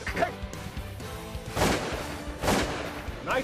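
Shotgun blasts from a waterfowl hunt for geese in Nebraska using Winchester ammunition: three loud, sharp reports spaced roughly a second apart, close by, with a brief voice between shots.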